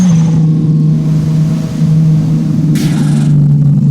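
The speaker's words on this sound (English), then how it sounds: "Can we just enjoy that turbo noise though, honestly?" Turbocharged drift car engine in the Drift21 driving game, a loud steady drone held at high revs throughout, with a brief airy whoosh of turbo or blow-off near the end.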